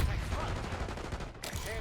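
Hand cannon fired in Call of Duty Black Ops 6 multiplayer, heard as a short flurry of loud, close gunshots with more gunfire mixed in, in a busy game soundscape.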